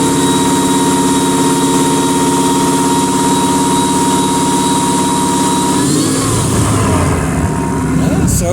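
A supercharged engine in a BMW T-bucket hot rod runs steadily just above idle with an even, loud drone, its pitch shifting slightly toward the end.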